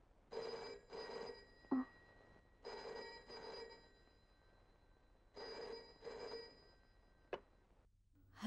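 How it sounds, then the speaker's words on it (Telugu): A house telephone rings at midnight in a Hyderabad home, sounding in three paired bursts with pauses between them, fairly faint and with no one speaking. "హైదరాబాద్లో మా ఇంట్లో ఓ అర్ధరాత్రి ఫోన్ మోగింది"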